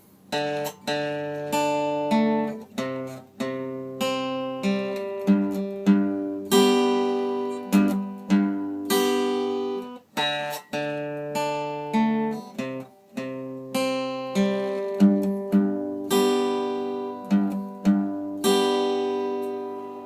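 Guitar strums the intro chords of Sweet Home Alabama, rising and falling in a steady rhythm over about twenty seconds, played alone and clearly.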